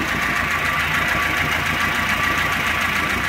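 Running car engine with a knocking camshaft, heard up close as a steady mechanical idle carrying a fast, even ticking clatter throughout, with no voices.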